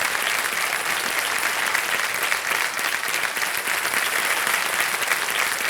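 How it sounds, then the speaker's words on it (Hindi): The studio audience of the Kaun Banega Crorepati quiz show bursts into dense, loud, continuous applause that holds steady for several seconds with no voices over it. "तालियां बज जाए इनके लिए"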